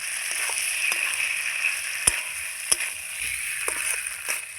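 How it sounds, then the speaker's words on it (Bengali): Fried arum and potato being stir-fried in spiced oil, a steady close sizzle with a few sharp clicks of a utensil against the pan, and no talk. "এইবার আমি ভেজে রাখা ছোলা কচুর মুড়োটা আর আলুটা একসঙ্গে ছেড়ে দেবো, দিয়ে খুব সুন্দর করে আবারও আমি কষিয়ে নেব"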